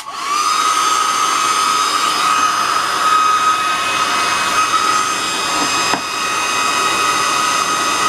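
A hair dryer drying a watercolour painting blows steadily and loudly at close range, a constant whirring roar with a high whine that continues for several seconds, with a brief dip near the end and no voices.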